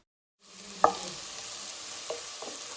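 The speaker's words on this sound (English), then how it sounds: "Now mix the onions with the salt." Onions with salt fry in a pan, a soft steady sizzle starting after a brief silence, broken by a sharp utensil clink and a few lighter taps as they are stirred.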